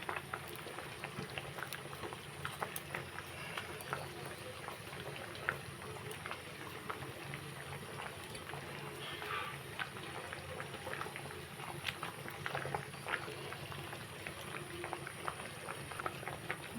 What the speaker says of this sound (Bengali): আবার ঝোলটা ফুটছে